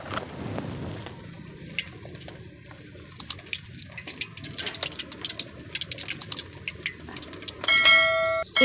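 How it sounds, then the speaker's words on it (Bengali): Prawn cutlets drop into hot oil and fry with a bubbling, crackling sizzle full of sharp pops, heard up close, with a brief ringing chime near the end. "তো আমি এটা এবার তেলের ভিতরে দিয়ে দেবো।"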